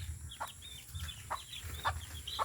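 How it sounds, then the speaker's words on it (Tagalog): Several short clucks from chickens, repeated at a loose rhythm over a low rumble of background noise, moderately close. "Dito na yung manok ko."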